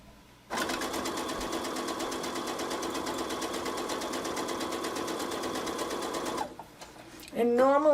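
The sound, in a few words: sewing machine stitching machine applique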